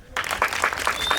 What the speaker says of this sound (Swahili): Mwisho kabisa, nataka mchipigie makofi.